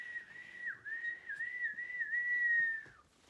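A storyteller imitates children whistling, producing one sustained, wavering whistled tone that bends up and down for about three seconds, quiet and alone.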